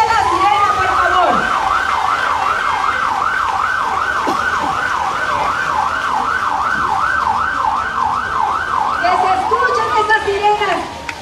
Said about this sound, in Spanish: que suene la sirena, que se escuche la sirena, por favor